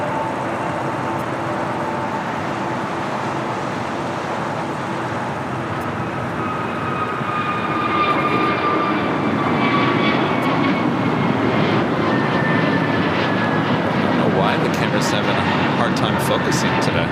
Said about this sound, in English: Next takeoff. American Airlines flight 1240 heading to Reagan National